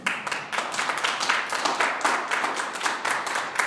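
A church congregation applauding during a sermon, with dense, continuous clapping from many hands filling the room evenly, close and fairly loud from start to finish.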